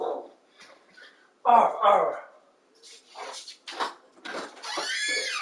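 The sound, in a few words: puppy barking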